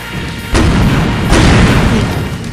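Zaku bazooka shots in the video game SD Gundam Online, two heavy booming blasts about a second apart, loud and close, each leaving a long rumbling tail.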